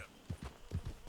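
Four distinct hoofbeats from a horse in Red Dead Redemption 2, close and clear, falling in an uneven clip-clop rhythm.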